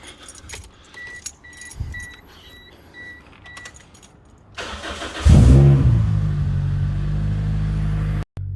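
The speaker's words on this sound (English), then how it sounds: "Let's do a quick cold start, shall we?" Keys jangle for several seconds, then a car engine cranks and roars to life, revving loudly before settling into a steady rumbling idle nearby.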